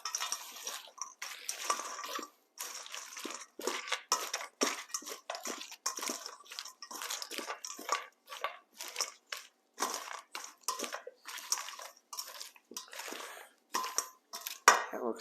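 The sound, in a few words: tossing salad with dressing and croutons in a bowl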